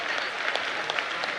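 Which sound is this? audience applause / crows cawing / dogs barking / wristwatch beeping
audience applause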